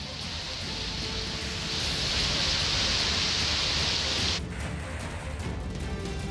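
Heavy rain in Kerala pouring steadily as a dense hiss, swelling louder for a couple of seconds before easing back to a constant downpour.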